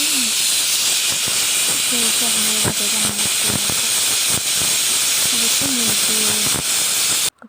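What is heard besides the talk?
pressure cooker whistle releasing steam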